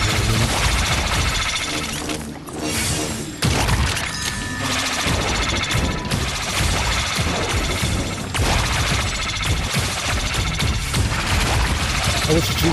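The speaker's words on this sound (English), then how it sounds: "I was shooting at these things." Dense, continuous gunfire and explosions in the VR shooter Plasmaborne, loud and constant throughout with a brief lull near the start, blended with game effects and a talking voice.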